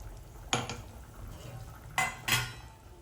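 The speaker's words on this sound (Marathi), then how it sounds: "हे बारीक केलेले तांदूळ आणि विलायची आपण टाकून देऊया" Ground rice and cardamom are added to a pot of carrot kheer, with a few sharp metallic clinks and scrapes of a utensil against the pot over a soft background hum.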